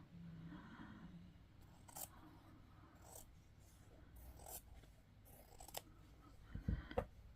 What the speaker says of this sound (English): I think I'll cut it a little bit narrower.